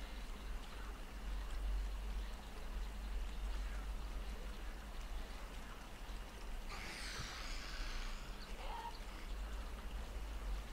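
A character wades through water in the 7 Days to Die video game, producing a steady watery rush and sloshing, with a brighter splashing burst partway through.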